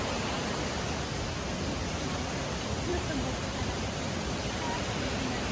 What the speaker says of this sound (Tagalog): At marinig yung agos ng tubig galing sa creek